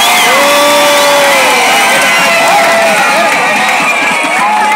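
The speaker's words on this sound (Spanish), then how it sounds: "regálame un aplauso" A contest audience cheers, whoops and shouts loudly with clapping mixed in, an energetic, dense crowd roar close up with high excited voices rising and falling throughout.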